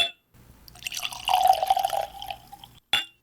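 Kilkerran 12 year single malt whisky, non-chill filtered, pouring into a glass in a close, steady trickle for about two seconds, then a brief clink near the end.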